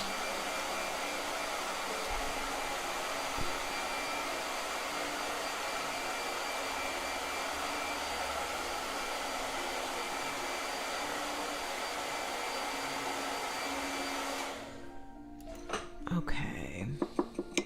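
A blow dryer runs steadily with a continuous whirring hiss for about fourteen seconds, then cuts off, leaving faint clatter and quiet background sounds.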